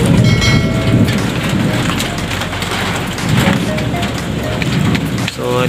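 Rain falls steadily outdoors with a dense, close hiss and patter, and the intensity swells slightly at moments.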